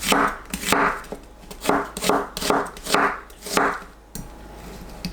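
A knife slices an onion into 0.5 cm pieces on a cutting board, about seven crisp, evenly spaced cuts at close range, followed by a quieter stretch.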